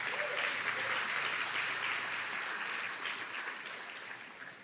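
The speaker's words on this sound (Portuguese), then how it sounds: "aplauda bem forte o nome de Jesus" A church congregation claps steadily, a full round of applause that holds for several seconds before gradually fading slightly.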